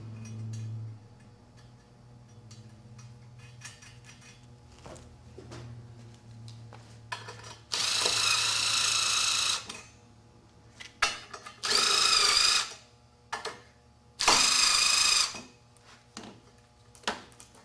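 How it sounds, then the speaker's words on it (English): A power tool drives and torques nuts onto weld studs during a cable-management assembly, giving three loud sustained whirring bursts of a few seconds each, separated by shorter clicks and handling noise. "the ninth and final step of driving and torquing the nuts can be done to finish the assembly"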